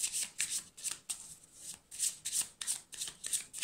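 Oracle cards are shuffled by hand in a quick, steady rhythm of crisp riffling bursts, close and soft, with no talking.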